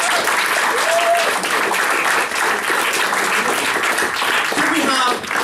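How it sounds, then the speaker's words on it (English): Sustained audience applause from a large crowd at a Pecha Kucha-style talk event, dense and steady throughout, with a few voices and cheers faintly mixed in. "Can we have a round of applause for all the speakers we've had so far?"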